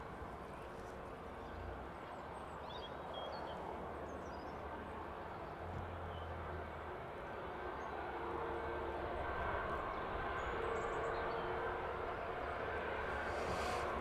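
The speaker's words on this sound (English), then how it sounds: "The Ryanair taxiing towards us now." Ryanair jet taxiing at East Midlands Airport, a steady broadband jet engine roar that builds gradually and stays loud and continuous throughout, with no talk over it.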